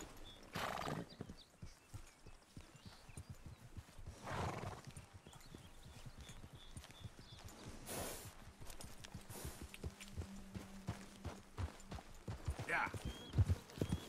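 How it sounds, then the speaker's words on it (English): A horse in Red Dead Redemption 2 clip-clops along in rhythmic hoofbeats and gives a couple of loud neighs, with a person talking over the game sounds. "Why is my horse not listening to me?"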